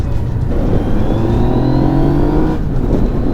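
A Yamaha Niken three-wheeled motorcycle accelerating on a test ride, its engine roaring loud and close with a steadily rising pitch and continuous wind noise, with no talk.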